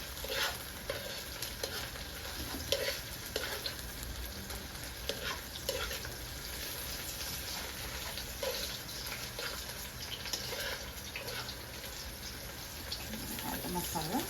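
Tomato paste frying in a pot for a Guyanese fish curry, a steady close sizzle with repeated scraping stirs throughout.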